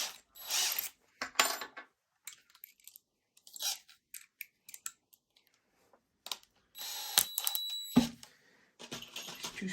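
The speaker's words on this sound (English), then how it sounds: "Screw them in, get your bit on." Screws driven by hand into a wooden bird feeder, short ratcheting and grinding bursts coming in uneven spurts with quiet gaps between them, close by.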